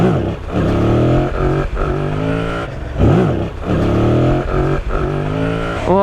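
Yamaha CP2 twin-cylinder motorcycle engine revving hard, rising and falling in repeated bursts with rough, throaty harmonics, close and loud with no talk.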